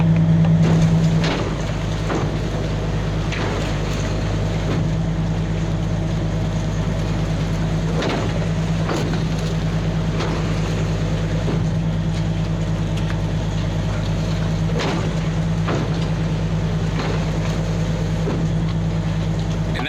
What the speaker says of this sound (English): Now I'm gonna go switch it to the unload, and you'll be able to see how the pattern works to get material off the trailer.